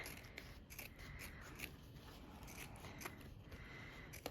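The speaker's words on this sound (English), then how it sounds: "I just cut along the line." Scissors cut along a line through printed fabric, a quiet, close series of crisp snips and soft rasping blade slides repeating steadily over a low background hiss.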